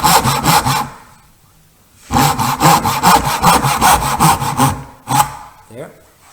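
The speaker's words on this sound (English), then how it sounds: "My tenon saw, watch my lines and make my cuts." Tenon saw cutting a wooden box dovetail joint held in a vise: quick rhythmic rasping strokes in two runs, close and loud, a short pause between and a final stroke at the end.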